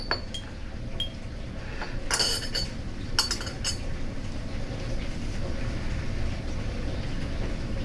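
A spoon or stirrer clinks against glassware while lactase enzyme is mixed into a warm solution above 80 °C, with a cluster of bright taps and scrapes over a steady background hiss, no voices.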